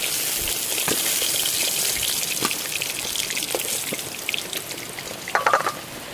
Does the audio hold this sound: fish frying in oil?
yes